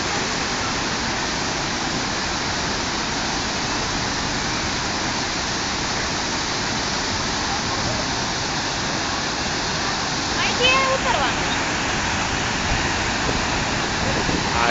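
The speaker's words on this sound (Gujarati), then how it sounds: "આ જમદગ્નિ ધોધ, અરે જમદગ્નિ ઋષિનો આશ્રમ છે નજીકમાં, જમદગ્નિ આશ્રમનો ધોધ છે." Jamdagni waterfall near the Jamdagni ashram, a steady, dense roar of falling water that stays loud and unbroken throughout.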